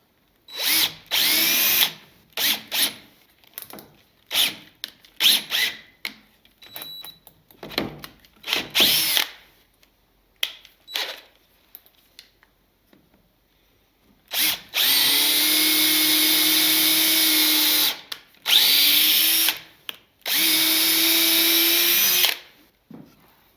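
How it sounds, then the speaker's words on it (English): A DeWalt power drill drilling a small hole whines in short bursts, then runs in longer sustained pulls, close and loud with brief pauses between runs. "Not so much trouble drilling a tiny little hole."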